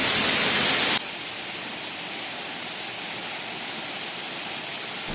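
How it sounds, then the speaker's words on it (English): Noh-Kawang Waterfall in Trangblang village, West Jaintia Hills, Meghalaya, swollen after rain, roars as steady broadband rushing water, loud and unbroken throughout, with a louder burst at the very start. "So let me show you the beautiful view of the Noh-Kawang Waterfall."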